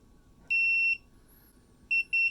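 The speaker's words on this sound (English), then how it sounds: "Put this on continuity mode. Every time the probes connect, we get a beep." Multimeter in continuity mode beeping as its probes touch lightsaber blade contacts: one sustained tone followed by two short beeps, clear and close in a quiet room.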